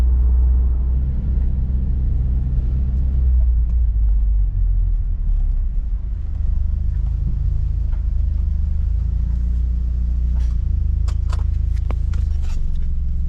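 Mitsubishi Lancer Evo X MR driving, its engine a steady low rumble with shifting tones throughout, no talk over it.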